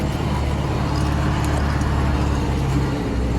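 An MTZ tractor engine droning as it drives across a ploughed field dragging harrows, a loud, steady low rumble from close inside the cab, with no speech.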